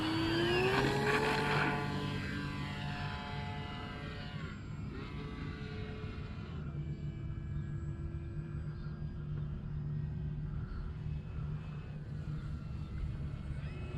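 A small propeller engine of a model Cessna 182 plane drones steadily during takeoff, its pitch rising and falling as it revs, loud and close throughout with no talking.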